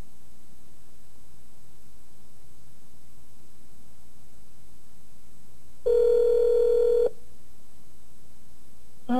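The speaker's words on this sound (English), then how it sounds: "Dialing." A Chrysler car hands-free phone system plays a single steady dial tone for about a second after long quiet hiss, clean and moderately loud, with no talking.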